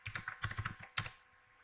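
Computer keyboard typing while entering recipient details for a mail merge: quick clusters of close keystrokes, a pause, then a sharper strike trailing off into quiet, with no talking.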